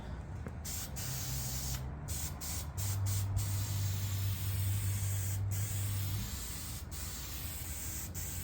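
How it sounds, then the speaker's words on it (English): Iron Armor truck bed coating from Harbor Freight sprayed from an aerosol can in a steady close hiss, broken by a few short gaps between passes. "truck bed coating iron armor from Harbor Freight"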